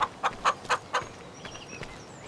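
Chickens in a farm pen in the video game Farming Simulator 25, several close clucks in a quick rhythmic burst, then fainter scattered clucking trailing off.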